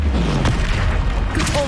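Confringo blasting spell in Hogwarts Legacy, heard as a dense, booming burst of spell-combat noise with low rumbling and crackling impacts, loud and continuous through the short moment of fighting.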